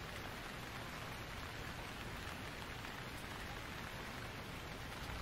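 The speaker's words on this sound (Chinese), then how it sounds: "还下着一点。" Light rain falling steadily on surfaces, an even dense patter with no pauses, close and with no one talking.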